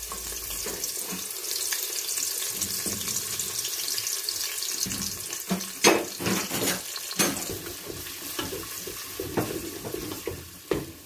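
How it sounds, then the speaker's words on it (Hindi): Onions go into roughly a quarter kilo of hot cooking oil over an open flame, giving a steady close sizzle and crackle with scattered stirring scrapes and clinks, no voices. "अब इसमें डालने लगे हैं प्याज।"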